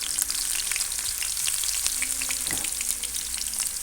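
Onion and ginger-garlic paste sizzling in hot oil with cumin seeds, a loud, dense crackling fry close up, with faint stirring scrapes beneath the continuous hiss.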